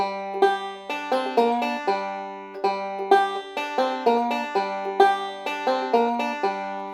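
A bright bluegrass banjo backup lick from 'Rain and Snow' plays alone, quick plucked notes in a bouncy repeating pattern with a few bent notes, clear and close.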